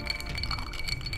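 Whisky glasses clinking in a toast over Old Smuggler blended Scotch, a bright ringing glass chime repeating through a brief, close moment.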